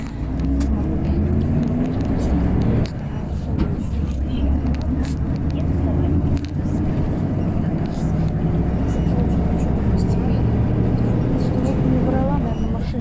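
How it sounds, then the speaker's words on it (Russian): Cars whoosh by on a city street in Birobidzhan, a steady continuous traffic roar with passing swells, close and loud, while a voice talks quietly over it. "не брала, наверное, машины жикают"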